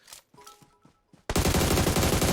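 Gunfire in the PUBG Mobile video game, a few sharp, fairly faint shots followed by a sudden loud, rapid automatic burst up close.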